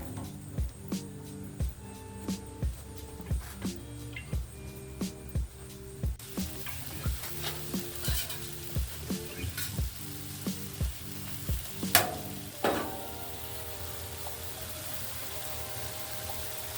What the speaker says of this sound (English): Today we're on the Blackstone. What are we grilling? Peaches.